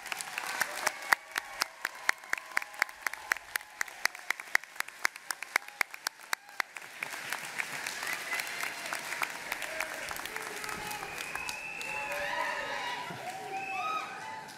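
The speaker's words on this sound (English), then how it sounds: "please stand and applaud your family, your friends, and all of the supporters who are here with you today" Graduates at a college commencement standing and applauding their families and supporters, sharp distinct claps at first, then merging into a dense continuous ovation with crowd noise and some voices underneath.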